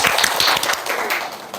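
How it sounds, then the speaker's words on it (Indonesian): Students in a classroom clapping for a classmate, a close, loud burst of many hands that slowly thins out, with no talking. "Bisa tepuk tangan untuk Mbak Nisa."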